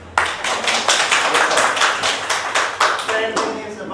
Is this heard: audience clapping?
yes